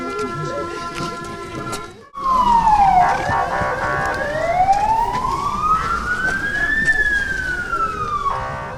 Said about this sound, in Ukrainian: Під звуки сирен пожежних машин